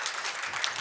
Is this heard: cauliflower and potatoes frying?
no